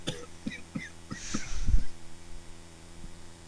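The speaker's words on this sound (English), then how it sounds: "that's just my cough" A player coughs once during a tabletop Dungeons & Dragons session, a short rough burst from a nearby voice standing out over a faint background with a few soft clicks.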